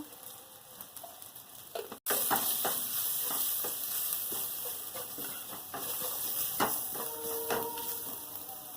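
Chili and turmeric powder sizzling as they fry in a pan, with a brief cut early on, then a continuous bright hiss and crackle and scattered stirring clicks, close and fairly quiet.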